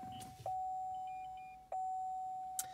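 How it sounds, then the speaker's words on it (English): Three short electronic beeps at a steady pitch from an iData Maestro interface kit in a truck, spaced irregularly over a quiet background, with faint higher tones between. "So the beeping you hear is from the iData Maestro kit."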